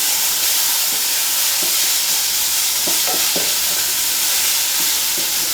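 Beans tipped into spiced hot oil in a pan sizzle steadily up close, with scattered scrapes and knocks of stirring across the whole stretch.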